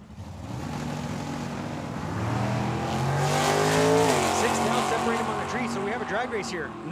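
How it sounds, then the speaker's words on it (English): Drag race cars launch side by side down the strip at Tucson Dragway, one of them a 1969 Roadrunner. Loud engines roar and climb in pitch as the cars pull away, while a commentator talks over them throughout. "Drag race here, no red lights."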